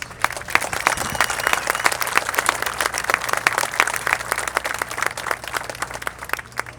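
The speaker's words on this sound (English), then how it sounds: "Please give them a round of applause" Outdoor audience applause at an opening ceremony honoring a 30-year partnership with the Czech Republic, a steady crowd clapping with dense, sharp individual claps close by, sustained throughout over a faint low hum.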